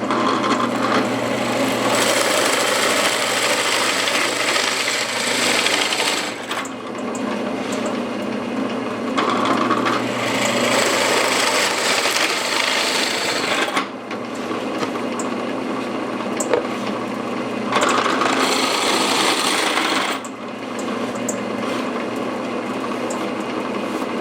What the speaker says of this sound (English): It allows me to drill this hole, slide it over and drill this hole.